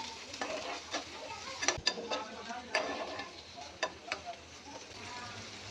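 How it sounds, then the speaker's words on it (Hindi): Julienned onion and tomato frying in oil for a chicken jalfrezi, giving a soft continuous sizzle broken by several sharp clicks and scrapes of a spoon stirring in the pan, fairly quiet and close. "1 जूलियन कटा हुआ टमाटर शामिल करेंगे और इससे 1 मिनट के लिए फ्राई करेंगे।"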